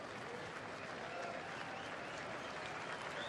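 A baseball stadium crowd at a Diamondbacks–Rockies game keeps up a steady, distant wash of applause and cheering, dense and even throughout, heard faintly as if from far off.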